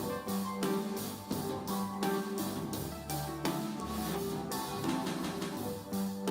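Synth chords with a shimmering, reverberant tail from a concrete-bar convolution reverb in Ableton Live 12, pulsing in a steady rhythm over a low bass line.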